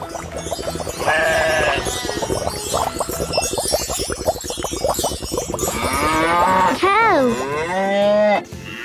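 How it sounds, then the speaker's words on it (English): Several cow moos, loud and close, with drawn-out lowing calls spread across the span; one long moo rises and bends near the end, with a bleat-like tone mixed in. "Cow."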